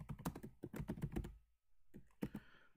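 Typing on a computer keyboard, with quick bursts of close, clicky keystrokes, a brief pause, then a few more presses.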